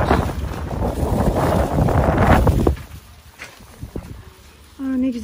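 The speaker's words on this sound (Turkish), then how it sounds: "Rüzgarı duyuyorsunuzdur." Heavy wind buffeting the microphone roars for about two and a half seconds, then drops to a quieter outdoor hush with small knocks and a brief tone near the end.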